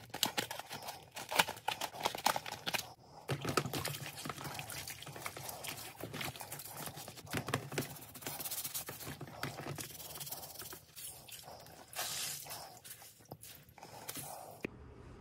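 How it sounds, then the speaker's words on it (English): Dirty water is poured and dumped out after cleaning a motorcycle helmet, a faint irregular splashing and trickling with scattered handling knocks and no talking. "Now that everything's clean, dumped out all that dirty water."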